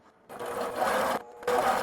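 A longarm quilting machine head runs across a quilt, giving a steady mechanical stitching whir that stops briefly and then resumes, fairly loud and close, with no talking.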